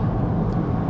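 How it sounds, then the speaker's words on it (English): BMW M3 Competition Touring facelift engine droning steadily through a lowered window, a low broadband rumble that holds level for a brief moment. "I'm gonna lower my window to try to get some of that engine noise inside the cabin."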